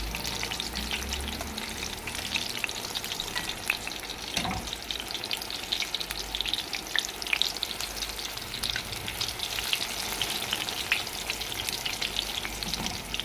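Eggplant slices fry steadily in a pan over medium heat, a dense continuous sizzle with crackling pops throughout and a brief scrape near the start, with no voices.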